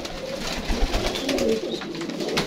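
Pigeons, including golden pigeons, coo softly nearby in a breeding cage in low, throaty, repeated calls.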